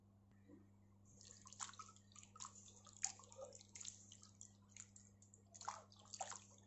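Dried longan rinsed in a basin of water in a home kitchen, soft repeated sloshing and dripping splashes in irregular bursts, close but faint over a low steady hum, no talk.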